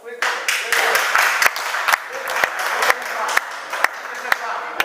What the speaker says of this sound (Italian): ma non stai a farmi applausi